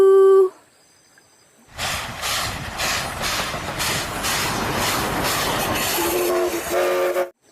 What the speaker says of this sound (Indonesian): Yang ini kereta api Thomas warna